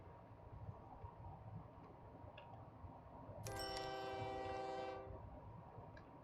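An AsiaStar locomotive pulling grain cars in a video game rolls with a low rail rumble, then sounds a single sustained horn blast of about one and a half seconds over the running noise.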